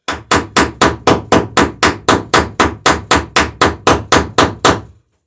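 A hammer strikes rivets on a dinghy under construction, about sixteen sharp, evenly spaced metallic blows in a steady rhythm, loud and close, then silence.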